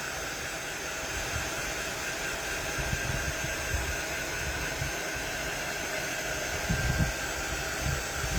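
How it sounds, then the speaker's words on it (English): A fan runs steadily to dry a decoupaged fall pumpkin, giving a constant, even broadband whoosh close to the microphone with slight low rumbling fluctuations and no talk. "Having this fan on is helping this dry."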